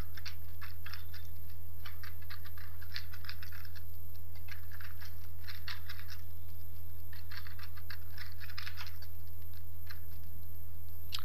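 Someone types C code on a computer keyboard, producing bursts of rapid close key clicks separated by short pauses, over a steady low electrical hum.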